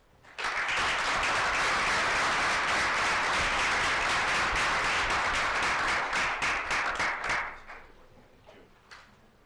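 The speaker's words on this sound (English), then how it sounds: "I also want to have you help me thank Pete with a hearty round of applause." An audience at a board meeting applauds, a dense burst of many hands clapping for about seven seconds before it quickly tapers off into room quiet.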